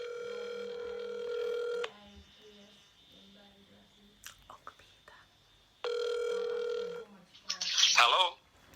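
A telephone ringback tone on an outgoing prank call: two long steady rings, the second after a pause, with faint room noise and a brief voice answering at the end.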